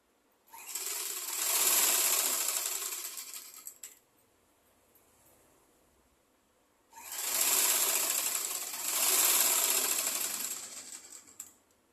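A sewing machine runs in two loud, steady bursts while stitching the lower hem of an umbrella skirt, with a quiet pause between the runs.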